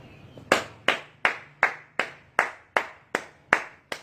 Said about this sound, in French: Il faut acclamer quand un grand nous quitte